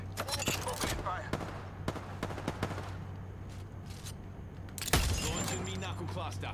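Gunfire in a video game: rapid bursts of sharp shots, clustered early and then one loud burst near the end, over a steady low hum with faint game chatter.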